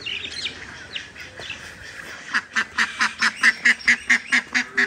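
A duck quacks in a fast, steady run of about ten loud calls, preceded by softer scattered bird chirps.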